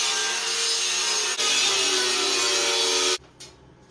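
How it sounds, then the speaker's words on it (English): An angle grinder cutting a shape out of steel plate for a hand-forged piece, a loud, bright, continuous grinding whine up close that cuts off abruptly near the end, followed by faint brief scraping. "Now we've just got to cut it out. And this is not an easy shape to grind."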